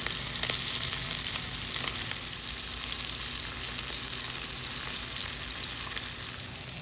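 Diver scallops searing in a pan over high heat, a loud, dense and continuous sizzle that holds steady close up and fades slightly toward the end, with no talking.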